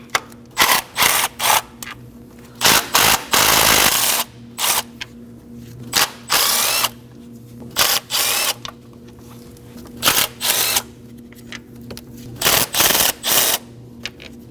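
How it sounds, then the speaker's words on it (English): A 10mm socket ratchet removing valve cover bolts on a 2011–2016 Kia Optima, with repeated short bursts of rapid ratcheting clicks separated by pauses, close and fairly loud. "Using a 10mm socket, we're gonna go ahead and remove all the bolts around the valve cover"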